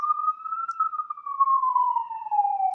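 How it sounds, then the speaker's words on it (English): A single siren wail rises and then slowly falls in pitch, steady and fairly close, with no talking over it. "Hear those sirens."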